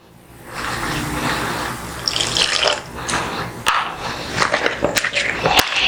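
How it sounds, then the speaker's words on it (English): Water pours and splashes into puff-puff dough in a bowl, with wet mixing sounds and a few sharp clicks near the end. "I go put small water again inside."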